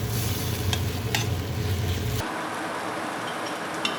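Mince, onion and garlic frying in a pan with sauce for chow mein, a close steady sizzle with stirring scrapes that drops to a softer, quieter hiss partway through.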